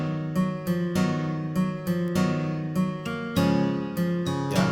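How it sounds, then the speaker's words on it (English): Chords from an acoustic guitar preset in the DSK Dynamic Guitars plugin, for a tune in the style of Squid Game. A steady run of bright, evenly spaced strums repeats a lively rhythmic pattern with a slightly mechanical feel. "so I used an acoustic guitar preset"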